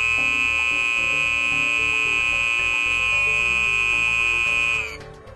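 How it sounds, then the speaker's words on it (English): A Federal Signal Model 450E Vibratone horn sounding a loud, steady, harsh buzzing tone close by for several seconds before cutting off abruptly. "I will now show the horn in action to give a demonstration on how the horn sounds."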